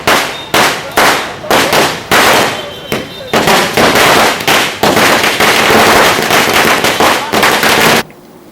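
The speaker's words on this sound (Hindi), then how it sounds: "जमकर पटाखे फोड़े, वो गुलाल उड़ाए" Firecrackers burst in a long, rapid string at a political celebration held by party workers in Bihar, loud, close and crackling for about eight seconds before stopping abruptly.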